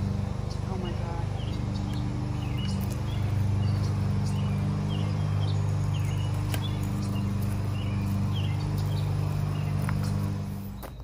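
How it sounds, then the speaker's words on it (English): A lawnmower runs nearby in a garden, a steady low engine drone that swells and fades slightly, with birds chirping and insects buzzing in the background. "apologies for that lawnmower"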